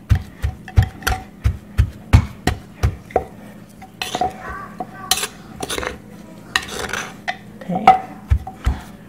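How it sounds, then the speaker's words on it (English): Herbs being mixed and worked into a Lao dried fish dip (jeow pa haeng), giving close, steady, rhythmic knocks and thumps of a utensil against the bowl, with scraping in between and a looser stretch midway. "So, gonna mix it. Make sure all the herbs and everything is all combined."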